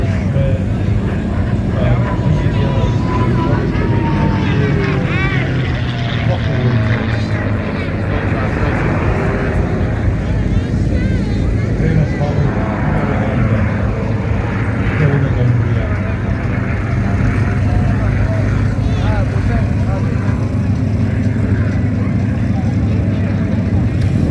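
A North American P-51 Mustang propeller fighter at an air show, its engine drone loud and sustained with slowly shifting pitch as it passes, while a voice talks over it throughout.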